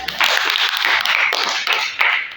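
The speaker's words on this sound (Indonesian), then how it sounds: "kasih tepuk tangan buat Jalur ya" A classroom of students applauds a classmate with a dense, steady wash of clapping that runs throughout, loud and close, swelling slightly in waves with no talk over it.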